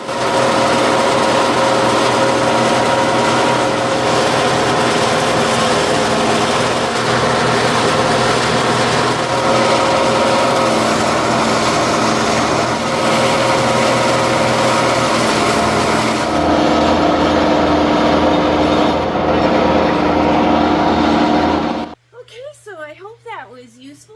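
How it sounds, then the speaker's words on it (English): A wood chipper runs during garden bed preparation, a loud, steady engine drone that holds for about twenty seconds before cutting off, followed by a few faint quieter sounds. "Now let's go down and do some wood chipping."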